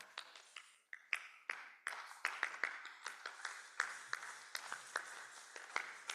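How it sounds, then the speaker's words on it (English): Scattered hand claps ring out quietly and unevenly at a Purim spiel, a few people clapping at a loose steady pace without voices. "Now we clap."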